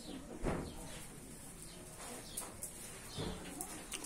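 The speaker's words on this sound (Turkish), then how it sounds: "Burada birkaç serçenin sesi geliyor da başka kuşlar bilmiyor." A few sparrows chirp faintly inside a zoo aviary, short scattered calls over a soft ambient background, with an occasional low cooing-like sound.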